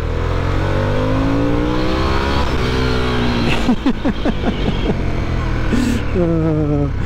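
Harley-Davidson Sportster S motorcycle accelerating hard, its loud engine note climbing through rising pitch sweeps with a brief gear-change dip midway before pulling up again.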